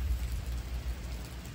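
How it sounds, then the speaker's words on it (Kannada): Rain falls steadily at night during a stormy spell, a soft even wash of drops with no other sounds and no voices. "ಈಗ ಗಂಟೆ 11:30 ಆಗಿದೆ, ಮಳೆ ಬರ್ತಾ ಇದೆ"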